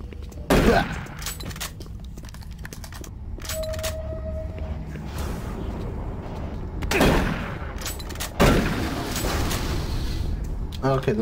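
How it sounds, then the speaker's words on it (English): Barrels exploding amid gunfire in DOOM 3, several sharp loud blasts and bursts of shots spread through the scene over a rumbling background, with a voice speaking briefly. "Okay, those barrels do explode."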